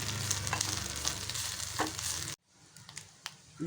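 Grated coconut with drumstick leaves sizzling in a pan while being stirred for chutney, a crackling fry with scraping spoon strokes that cuts off abruptly, leaving near silence and a few faint taps.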